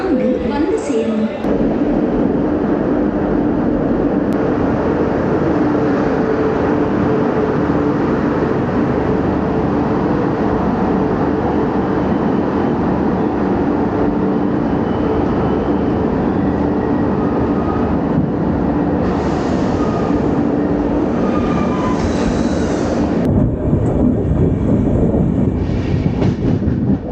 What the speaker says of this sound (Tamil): மைசூரிலிருந்து கொச்சிவேலி வரை செல்லும் மைசூர் கொச்சிவேலி விரைவு வண்டி வயா கோயம்புத்தூர் ஆலப்புழா இன்னும் சற்று நேரத்தில் பிளாட்ஃபார்ம் நம்பர் 4 வந்து சேரும்